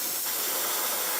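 Steady hiss of an airbrush spraying air over paint on a Bandai 1/12 scale Boba Fett model, a close continuous rush of air with no voices.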